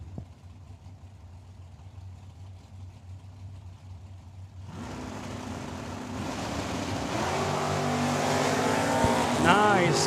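Drag racing cars launch side by side down the strip at a dragway, a low idle that suddenly swells into a loud, sustained roar of engines accelerating away, with an announcer talking throughout.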